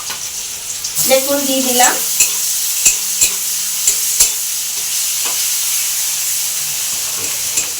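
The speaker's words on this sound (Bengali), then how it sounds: "যেটা কুচি করা ছিল সেটা ভেজে নিচ্ছি।" Chopped ingredients sizzle steadily in a pan during fish kalia preparation, with spices added, sharp clinks of a spatula stirring at irregular intervals, and a brief voice near the start, all close and moderately loud.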